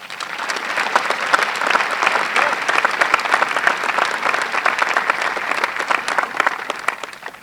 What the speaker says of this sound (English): can we have another round of applause for our student speakers?